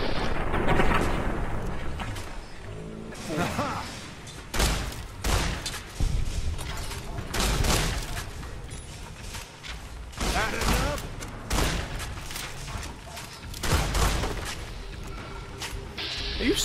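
Shotgun blasts from the Fallout: New Vegas video game, several loud booming shots spaced through the stretch, heard amid game background noise with a voice talking over parts of it.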